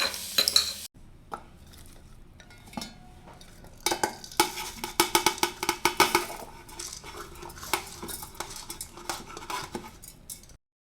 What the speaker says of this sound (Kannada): ಹಸಿರು ಮೆಣಸಿನ್ಕಾಯನ್ನ ನಾನು ಎಣ್ಣೆ ಹಾಕಂದಂಗೆ ಚೆನ್ನಾಗಿ ಹುರ್ಕೋಬೇಕು ಎಣ್ಣೆ ಹಾಕ್ದಂಗೆ ಡ್ರೈ ರೋಸ್ಟ್ ಮಾಡ್ಕೋಬೇಕು